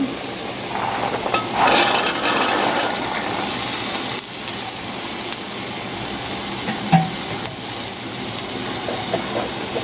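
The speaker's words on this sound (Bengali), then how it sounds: "এখন আমি বুটগুলো দিয়ে দিচ্ছি।" Boiled chickpeas are stirred into fried spice paste in a pan, giving a loud, continuous sizzle and hiss with a few scraping knocks from the spoon.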